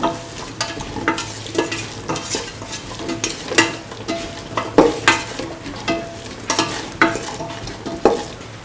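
Mung bean and ivy gourd rice is stirred with salt in a frying pan, giving a rhythmic run of spoon scrapes over a continuous sizzle, close and fairly loud, with no speech.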